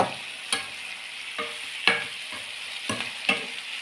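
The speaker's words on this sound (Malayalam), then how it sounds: "അപ്പം നല്ല ഒന്ന് ഇളക്കി യോജിപ്പിച്ച്" A spatula stirs a green bean stir-fry with a slit green chili in a pan, giving scraping strokes roughly every half second to second over a soft, constant sizzle, close and without speech.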